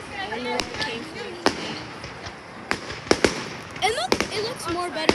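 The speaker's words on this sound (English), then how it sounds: "It's spawning a million missiles." Firework missiles exploding in a video game, several sharp scattered bangs and pops over tonal game sounds while a person talks.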